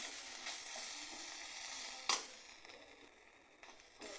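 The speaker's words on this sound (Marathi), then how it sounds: "सतत ढवळत राहायचं याला मेथीच्या भाजीला" Fenugreek leaf thecha stirred steadily in a pan, a soft continuous sizzle with scraping strokes and one sharp clink of the spoon against the metal partway through.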